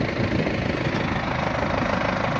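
A backhoe engine idles close by in a steady, loud, rumbling drone with a faint knocking pulse and no pauses.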